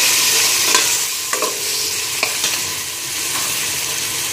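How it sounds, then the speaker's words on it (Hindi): Finely chopped tomatoes fry in a pan for sambhar, a steady hissing sizzle with a few soft stirring clicks, close and fairly loud with no talking. "और ये जो बारीक टमाटे करके रखे थे हमने वो भी डालेंगे, और थोड़ा भूनेगा"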